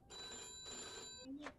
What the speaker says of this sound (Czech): samozřejmě nám zvoní telefon